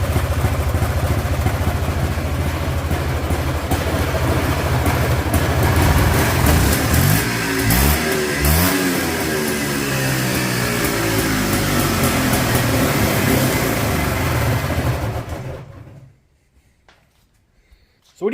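A $250 Polaris Trailboss quad idles loudly indoors, a steady rough clattering engine note that swells briefly in the middle, then cuts off abruptly near the end and leaves near silence.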